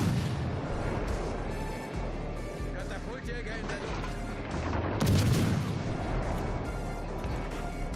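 Naval guns firing in World of Warships Legends, a steady barrage of deep booms and crashing shots with a heavier burst midway, loud and dense throughout, with a voice talking over parts of it.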